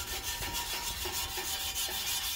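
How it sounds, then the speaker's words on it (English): Old aluminum inner rims being scrubbed by hand, a steady abrasive rubbing with faint rhythmic strokes under a constant broadband hiss, moderately close and fairly quiet. "you start scrubbing and scrubbing like your life depends on it"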